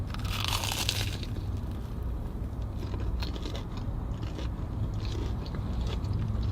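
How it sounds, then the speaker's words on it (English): Crunchy Korean cheesy corn dog with rice batter, mozzarella and a sugar coating being bitten and chewed up close, a sharp crisp crunch at the start followed by steady chewing and crackling, no talk. "The crunch is on another level."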